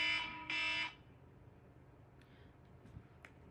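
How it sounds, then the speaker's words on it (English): An electronic alarm beeps twice in loud, harsh bursts at the start, then stops, leaving quiet room tone with a few faint clicks and rustles. "Let me turn all my alarms off. That scared me."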